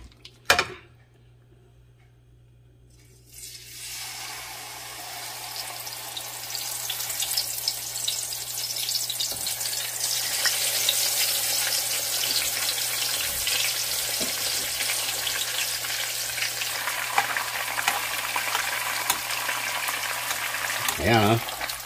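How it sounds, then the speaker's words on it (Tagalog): Marinated pompano fish frying in oil for a pampano mandi dish: after a brief quiet, a steady, fairly loud crackling sizzle sets in and continues, with no talking. "Pa-fried natin yung pampano natin."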